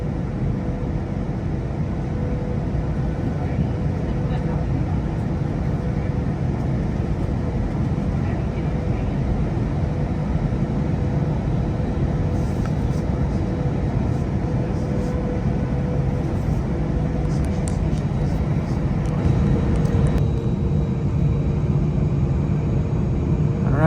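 Airplane taking off from a runway, heard from inside as a loud, steady roar of jet engines that holds constant throughout, with faint cabin noise on top.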